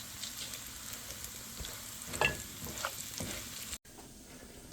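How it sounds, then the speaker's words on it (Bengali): Tempering spices for vegetable khichuri sizzle softly in hot oil while being stirred, a faint steady crackle with a few scraping strokes close by. "এখন এটা নাড়া দিয়ে একটু ভাজা হলে বাগারে খিচুড়িতে দিয়ে দেবো।"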